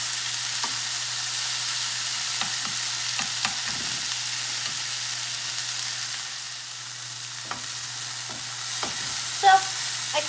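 Tomatoes and cilantro fry and toast in a pan for chilaquiles, a steady soft sizzle running throughout with scattered clicks and stirring taps, fairly close and alone without talk.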